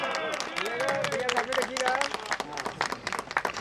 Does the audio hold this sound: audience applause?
yes